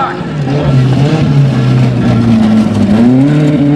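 Stunt show cars rev their engines hard at a Sunday night stunt show at the Great Dorset Steam Fair, a loud, close, continuous roar that swells and climbs in pitch near the end.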